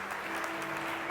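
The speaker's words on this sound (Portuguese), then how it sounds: "Alguém aplauda o nome do Senhor Jesus." A church congregation applauds during a sermon in praise of Jesus, a short burst of dense clapping blended with a low sustained hum.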